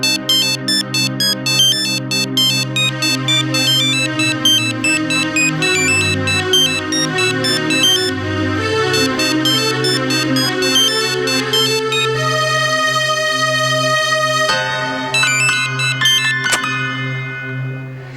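A mobile phone ringtone plays a bright repeating electronic melody, loud and close, looping for the whole stretch before cutting off near the end.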